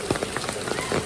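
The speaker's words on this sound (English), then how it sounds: "And the rain has returned." Rain pattering steadily on surfaces at the Dollywood theme park in Tennessee, a dense continuous hiss with soft drop impacts, close and even throughout.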